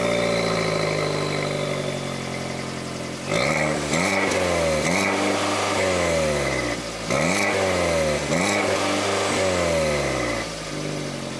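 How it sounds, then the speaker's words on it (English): Exhaust of a 2019 Fiat 500 Turbo revved repeatedly, several sharp climbs in engine pitch falling back between blips, loud and close with a throaty tone and no talking. "I'll let you guys actually hear that exhaust."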